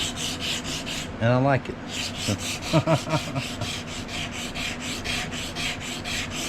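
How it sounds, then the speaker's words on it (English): A wooden knife handle being sanded smooth during a repair, with steady, evenly spaced rasping strokes repeating close up throughout, and someone speaking briefly over them partway through. "after everything's sanded nice smooth where I want it"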